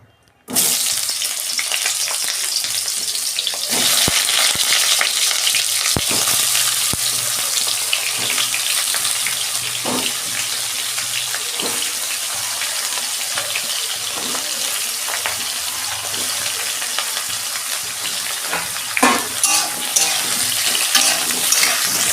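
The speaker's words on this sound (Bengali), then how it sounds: "ঝিঙে আমি ভেজে নেবো, একটু অল্প 2 মিনিট ভাজবো" Ridge gourd sizzles and crackles loudly in hot oil in a wok, a continuous hiss broken by occasional sharp clicks of stirring.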